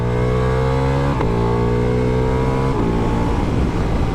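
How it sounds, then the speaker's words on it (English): Ducati Multistrada V4S motorcycle engine under hard acceleration on open curving roads, a loud close-up roar climbing steadily in pitch, with two gear changes briefly dropping the tone before it rises again. "Bike sounds ace."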